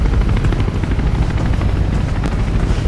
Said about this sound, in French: Ah, l'hélico s'éloigne pas.